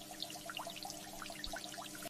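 Clean running water pours and trickles steadily from a tap, a close, bubbly stream of small splashes with no voices.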